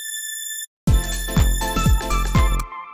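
Bright, high string sample for a classic Chicago deep house track: a thin sustained tone, a short gap, then chords played against deep kick-like thumps and a dense, shimmering upper layer, loud and free of talk.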